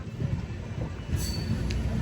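Khasi Tamil Sangam special train cruising at speed between Gudur and Varanasi, a steady low rumble of wheels and carriage noise with a brief high squeal, heard close from inside the coach.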